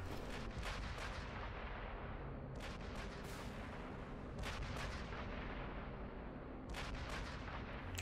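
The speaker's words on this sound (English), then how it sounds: "At least these guns fire pretty frequently." Flak tower guns fire in the Sniper Elite V2 video game, a dense and continuous barrage of heavy booms with sharp bursts recurring every couple of seconds, loud and close with no talking.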